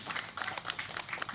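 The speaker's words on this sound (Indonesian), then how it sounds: "boleh tepuk tangan untuk Himapol Unan" Audience clapping at an evening political event in Indonesia, a short burst of scattered handclaps under a speaking voice.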